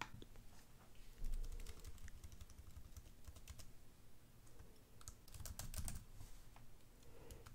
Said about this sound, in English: I'm going to enter my SSID and password here.